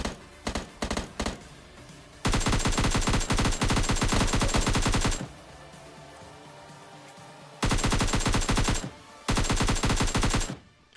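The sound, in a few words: gunfire in the video game PUBG Lite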